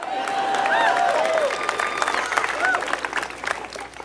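A rally crowd of more than a thousand in Iowa applauds, a broad sustained wash of clapping with some cheering, close and steady throughout with faint tones over it.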